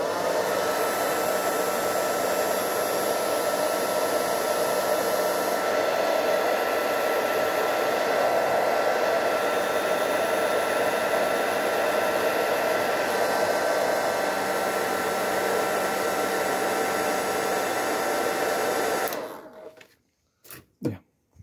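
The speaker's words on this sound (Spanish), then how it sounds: "El PVC se trabaja con calor, por eso uso el secador." Hair dryer blowing hot air to soften PVC while making a patch, a loud steady close whoosh running for about nineteen seconds before switching off, followed by a few faint handling knocks.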